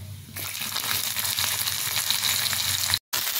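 Chopped onions frying in hot oil with cinnamon, whole cumin and a bay leaf in a pan, a loud, close, continuous sizzle that starts abruptly and cuts out for a moment near the end.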